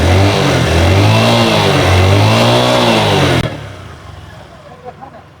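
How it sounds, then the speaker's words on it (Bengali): A used motorcycle engine runs loud and close with a steady, throbbing hum, then cuts off abruptly, leaving only faint background noise. "আশা করি আপনারা সাউন্ড কন্ডিশনটা শুনতে পারতেছেন মানে গাড়ি স্টার্টে আছে কি না"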